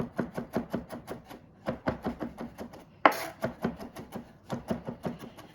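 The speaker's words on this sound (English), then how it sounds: "hold the blade like that, and then just kind of rock the knife back and forth" Kitchen knife rocking steadily across a cutting board while prepping a wedge salad, producing close, evenly spaced chopping taps in quick runs with brief pauses and one sharper knock midway, no voices.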